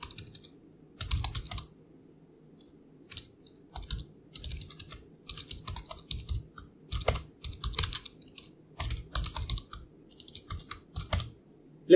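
Computer keyboard typed on while writing a C program: quick bursts of close, crisp key clicks with short pauses between them, alone with no voices.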